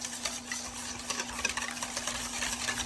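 Pumpkin spice waffle batter of milk and melted butter being stirred together in a bowl, a steady, close scraping and swishing that runs the whole time under a faint constant hum, with no talking.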